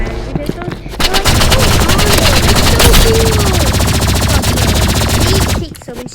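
Rapid, sustained energy-pistol fire in a Roblox shooter, loud and continuous for about four seconds with dense repeated shots, stopping abruptly near the end; a voice talks faintly underneath.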